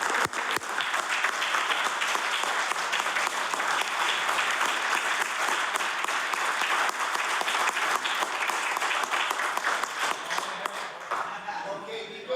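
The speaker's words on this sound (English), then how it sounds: "I would like for you all to meet my wife and give her a wonderful applause" Sustained applause from the floor of a House of Assembly chamber: dense, even clapping from many hands that holds steady for about eleven seconds before thinning out, with a voice beginning to speak at the tail end.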